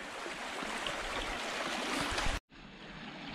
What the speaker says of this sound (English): the water is sort of going around it and crashing around